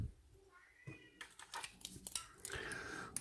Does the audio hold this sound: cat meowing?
yes